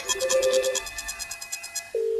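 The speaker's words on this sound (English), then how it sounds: "So it's ringing now." A desk telephone rings through a business call queue system, an electronic warbling ringtone pulsing in rapid bursts, then a steady tone that holds to the end.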